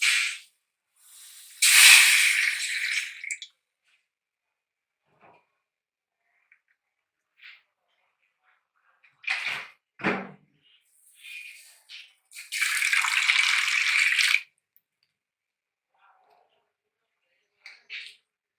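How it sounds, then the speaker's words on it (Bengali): Two cups of water go into a frying pan on a low gas flame, giving sharp bursts of hissing and bubbling between stretches of near silence, with a faint clatter close by. "ফ্রাই প্যানটিতে অ্যাড করে দিচ্ছি 2 কাপ পরিমাণ পানি"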